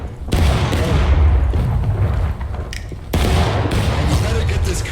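Musket gunfire in the War of Rights video game: loud, dense volleys of shots crackle and boom across the battlefield in two sustained bursts, with a voice speaking over the noise.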